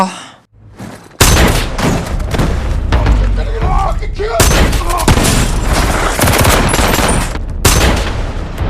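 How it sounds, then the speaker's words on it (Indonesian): Heavy gunfire in an action film robbery scene as a man shoots at robbers by a car: loud, dense bursts of rapid shots and booms following a brief quiet moment, continuing almost unbroken, with a voice speaking over it. "H menembaki para perampok itu dengan sangat brutal"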